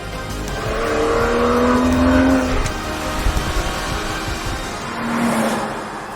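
A Porsche Boxster with a central exhaust pipe rumbles steadily, its engine note rising and swelling around two seconds before easing and surging again near the end, fairly close and loud with no talking.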